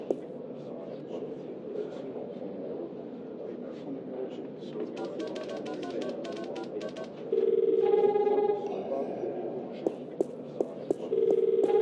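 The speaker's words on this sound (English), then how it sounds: "Hey, there's a phone call for you." A telephone rings in a scene from the adventure game The Longest Journey, a steady electronic ring tone entering partway through over a continuous bed of game ambience and background music.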